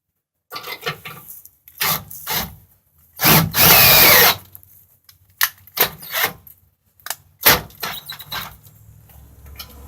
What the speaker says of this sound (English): Just gonna go ahead and use my drill to put it in